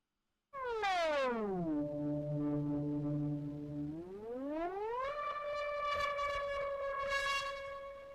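Distorted synth patch called Disneyland Can Wait from the Wrongtools library, a buzzy tone gliding down, holding low, then sweeping back up to a sustained higher drone, steady and alone.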